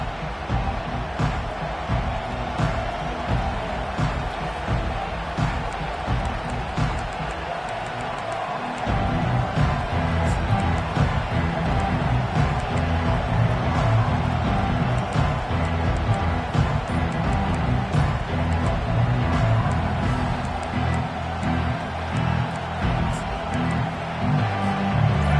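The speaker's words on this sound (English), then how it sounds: "This crowd bringing an ear-splitting welcome to their visitors." A packed stadium crowd in a college football video game matchup between Washington and FAU roars steadily and loudly, swelling to a heavier, fuller din partway through and holding there as a continuous wall of noise.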